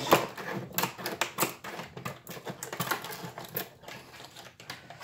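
Tool packaging gets torn and cut open, with stiff plastic crinkling and rapid irregular snapping taps in uneven bursts, close and steady with no speech.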